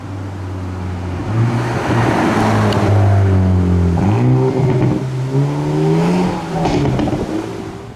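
A Hyundai i30N DCT facelift's exhaust revs loudly and close by, rising and falling through several throttle blips with a deep, rasping engine note and no talk.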